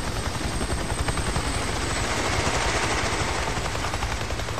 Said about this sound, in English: Is a helicopter following me?